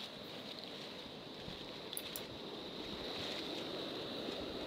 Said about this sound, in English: also hear the water rushing over the weir.